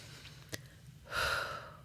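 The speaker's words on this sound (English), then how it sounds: "I take a breath" A person takes a deep breath as a coping skill: a short sharp intake, a pause, then a longer, louder airy breath that swells and fades, close and quiet otherwise.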